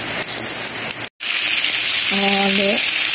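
Tulingan fish frying in a pan, a steady loud sizzle and crackle running throughout, with a brief drop-out near the middle and a short electronic beep tone toward the end.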